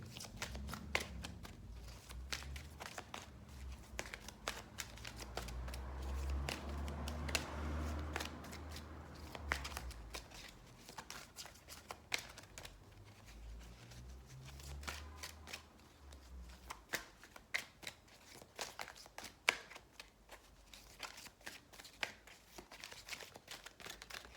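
Tarot cards being shuffled up close, a long stretch of dense riffling and sliding paper rustle with crisp snaps, faint and continuous throughout.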